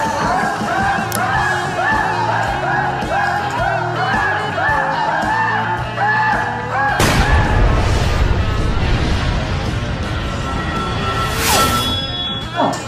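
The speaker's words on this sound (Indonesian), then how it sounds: "Suara tembakan ya? Tembakan." Gunfire from an Indonesian comedy film: a sudden loud burst of shots breaks in after a stretch of music, followed by a dense, noisy clatter with shouting and crowd noise, and sharp bright cracks near the end.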